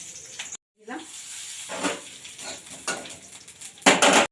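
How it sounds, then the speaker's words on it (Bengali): Dried red chillies dropped into hot oil in a pan as a tempering, giving a loud crackling sizzle with stirring scrapes that builds to a strong burst of frying at the end. "আবারও একটু তেল দিয়ে দিলাম, শুকনো লঙ্কা ফোড়ন দিয়ে দিলাম"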